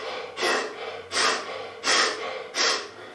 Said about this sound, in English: As though you've just run a marathon and you're gasping for breath at the finishing line